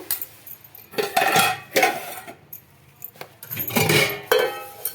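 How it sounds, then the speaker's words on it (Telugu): Steel containers scrubbed with a scrubber, uneven bursts of metallic scraping and clattering with short pauses, close and fairly loud, no speech. "మనము స్క్రబ్బర్తో ఇలా రుద్దుకోవాలి"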